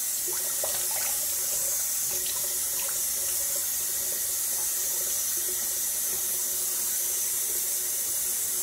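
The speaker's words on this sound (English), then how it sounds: "Get a little cold water for the rinse." Cold water runs steadily from a bathroom tap for rinsing after a shave, a constant close hiss and splash with no talking.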